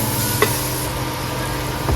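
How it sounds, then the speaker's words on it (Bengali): Mushrooms frying in a pan with a little turmeric give a steady, close sizzle throughout, with a faint stir or scrape near the start and again at the end. "এর মধ্যে দিয়ে দিচ্ছি হালকা পরিমাণে হলুদ দিয়ে অল্প পরিমাণে ভেজে নেব"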